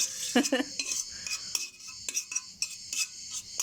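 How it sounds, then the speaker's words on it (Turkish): Oil and tomato paste being stirred in a pan on a small gas burner, a utensil scraping and clinking against the metal in short irregular strokes over a soft sizzle. "Şimdi yağı salçayla biraz kavuruyor."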